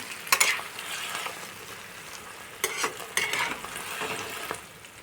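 Chopped taro stems, radish and carrot hit a hot pan and sizzle, with a few sharp stirring scrapes and clatters over a steady frying hiss, close and moderately loud.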